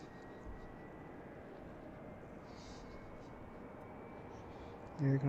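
CRJ jet departing Washington Reagan National Airport, a steady broadband engine roar holding evenly throughout at moderate distance, with a couple of louder bumps near the end.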